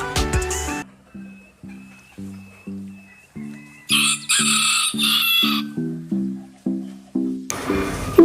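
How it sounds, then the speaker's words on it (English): A hen clucks and squawks in a steady repeating rhythm, loud and close, with a brief harsh burst midway over an even tonal backing. "This is a hen"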